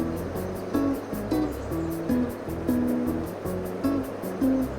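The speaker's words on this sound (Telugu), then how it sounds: "సో హోమ్మేడ్ గరం మసాలా అంతా బాగా మంచిగా ఫ్రై అవ్వాలి" Homemade garam masala frying in a pan for a fish curry, a soft, continuous sizzle with a faint tonal hum running beneath it.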